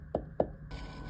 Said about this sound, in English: If it makes a low thud sound like this,